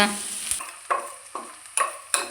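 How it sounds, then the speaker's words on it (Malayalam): Ground coconut paste is added to a hot pan for a theeyal curry and stirred: a soft sizzle runs throughout, broken by four or five sharp spoon scrapes close by. "നമ്മുടെ അരപ്പ് ഇതിലേക്ക് ചേർത്ത് കൊടുക്കുവാണ്"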